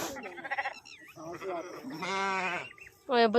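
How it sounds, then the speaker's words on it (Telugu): Several wavering bleats from sheep, loud and close, one after another with short gaps, the last one especially strong. "ఇక్కడ గొర్రెలు ఉన్నాయన్నమాట"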